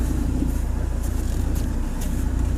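A BMW X3 with a juddering fault rolls slowly in second gear on a road, a steady low engine drone and rumble with faint rhythmic pulsing heard from inside the cabin.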